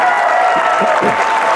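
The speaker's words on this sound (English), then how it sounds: "Clap if you got spanked growing up." A comedy club audience claps loudly in a dense, continuous burst of applause, with a few faint voices underneath.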